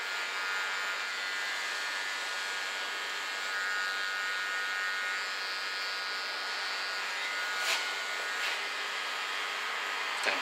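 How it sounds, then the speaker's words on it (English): Electric hair clipper on a free-hand haircut, trimming along the neckline, giving a steady high-pitched buzz throughout with slight changes as the blades move over the hair. "Do this only with a clipper."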